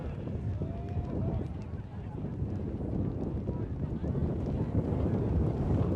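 Gusty wind buffets the microphone at an outdoor ultimate frisbee club championship final, a continuous low rumble that strengthens toward the end under a commentator's voice.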